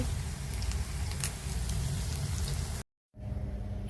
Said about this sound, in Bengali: এই মাংস ভাজা হচ্ছে